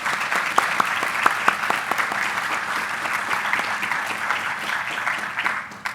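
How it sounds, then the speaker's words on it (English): Sustained round of applause from faculty members at a university senate meeting, honoring a departing senate chair; dense steady clapping with a few sharper claps standing out, fading toward the end. "So we do owe him a round of applause."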